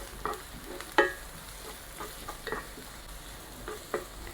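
Garlic and onion frying in a pan while being stirred, giving soft sizzling with scattered spoon scrapes and clinks, one sharper knock near the middle, close and fairly quiet, with no talk.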